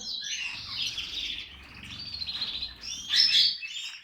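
Many canaries chirp and trill continuously in an aviary, bright high twittering overlapping close by, with a soft low rumble underneath.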